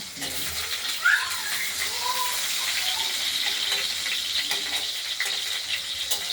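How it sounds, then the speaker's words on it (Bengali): Potatoes fry in hot oil with cumin, bay leaf and dried chilli, giving a steady, close sizzling hiss with faint stirring and kitchen clatter, while a voice speaks quietly underneath. "এবার আলুগুলোকে আমরা ভেজে নেব।"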